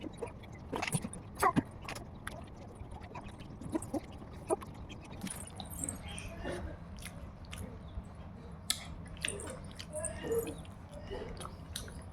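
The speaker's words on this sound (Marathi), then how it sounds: "अब हम खिचड़ी खाएंगे गाइस" Someone eats khichdi with pickle up close, producing quiet, irregular chewing and soft biting clicks spread across the clip, with faint background noise.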